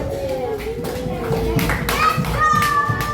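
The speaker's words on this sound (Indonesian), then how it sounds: "Tepuk tangan buat semuanya" Brisk clapping from a small group of fourth-grade children in a classroom, steady and close, with young voices chattering over it.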